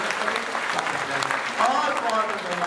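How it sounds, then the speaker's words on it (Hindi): Audience applause at a Hindu religious discourse event at an ashram in Burhanpur, a steady dense clapping that fills the whole clip, with voices and a brief rising tone audible over it. "इसके लिए एक बार पुनः दोनों हाथ उठाकर जोरदार ताली बजाएं।"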